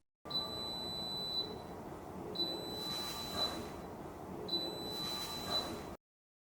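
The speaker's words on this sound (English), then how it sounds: "The machine runs until the water runs out, then beeps 3 times" A drip coffee maker with grinder gives three evenly spaced electronic beeps, each about a second long, over a low background hum.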